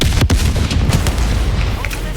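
Rocket fire and explosions in the war video game Battlefield 6: a loud sharp blast followed by rumbling booms and scattered bangs packed into a dense, noisy couple of seconds, with voices faintly under it.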